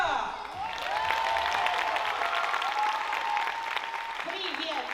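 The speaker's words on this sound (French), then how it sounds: "veuillez faire un tonnerre d'applaudissements pour Ju Drobniska." An audience at a gymnastics club's talent-show evening applauds steadily for several seconds, a broad wash of clapping with a thin musical tone running through it.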